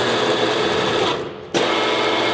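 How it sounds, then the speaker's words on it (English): Hydraulic drive of a 50-ton, 8-foot Cincinnati M3-50 CNC press brake moving its ram up and down, a steady loud whirring hum that briefly drops in level before surging back, heard alone without talk. "These little buttons in here are raising and lowering our ram here."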